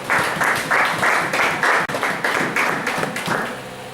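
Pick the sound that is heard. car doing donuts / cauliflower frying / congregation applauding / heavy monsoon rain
congregation applauding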